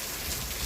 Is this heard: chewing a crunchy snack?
no